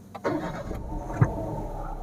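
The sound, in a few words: Toyota Yaris Hatch 2022 engine starting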